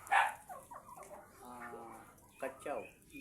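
A dog barks on a rural property where ducks are kept: a sharp close bark at the start, then a few more barks and yelps among other animal calls.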